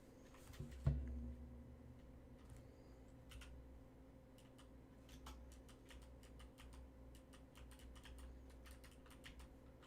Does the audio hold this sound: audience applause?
no